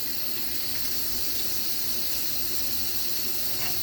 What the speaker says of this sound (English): Just rinse them for a little while under the cool water.